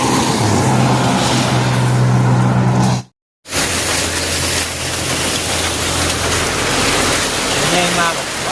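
Steady heavy rain pours down in a rural Thai village, a loud continuous hiss that cuts out briefly and resumes, with a low motor hum underneath and a faint voice near the end.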